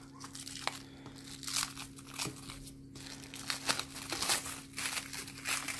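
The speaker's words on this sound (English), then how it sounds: "So let's get rid of this plastic." Plastic wrapping is pulled and crumpled off a Traxxas TRX-6 Mercedes-Benz G 63 AMG 6x6 RC car, a close, busy series of crinkles, crunches and tearing rustles with a faint steady hum beneath.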